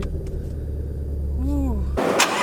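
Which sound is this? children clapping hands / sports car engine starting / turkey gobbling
sports car engine starting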